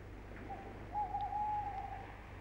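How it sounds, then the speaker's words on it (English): An owl gives a single drawn-out hoot at middle distance, faint and steady over a quiet background hiss. "hoots darkly."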